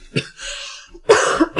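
A man gives a single short cough followed by a throat-clearing cough, close and fairly loud in a quiet indoor setting, with no talk over it.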